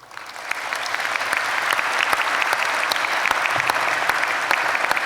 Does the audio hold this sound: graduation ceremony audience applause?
yes